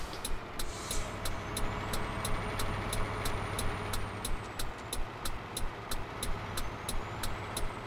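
A Ford Cargo D1210 truck engine drones steadily in Euro Truck Simulator 2, a low continuous rumble with regular rhythmic ticking over it, moderately loud with no talking.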